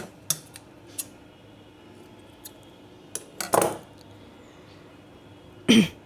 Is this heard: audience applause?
no